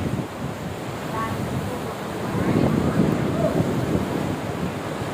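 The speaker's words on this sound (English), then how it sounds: "Waves coming in. Under the pier." Waves crash and churn beneath a pier, a dense continuous roar that swells louder midway, with wind rumbling across the microphone.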